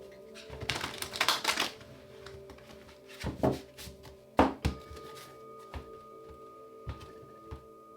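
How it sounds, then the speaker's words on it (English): Tarot cards being shuffled by hand, giving a quiet run of papery riffles and soft thuds in uneven bursts, with a longer flurry early on and sparser taps later. "Last shuffle."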